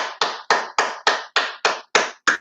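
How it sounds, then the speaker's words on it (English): Hands clap nine times in a steady, even rhythm, each clap sharp and close, separated by brief silences, with no voices. "we want to give you a clap"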